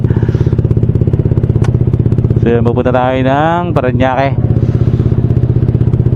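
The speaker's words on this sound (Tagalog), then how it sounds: "magpapainit muna tayo ng makina bago tayo mag-take off" A motorcycle engine idles while warming up before a ride, a steady close pulsing putter running throughout, with someone talking over it partway through.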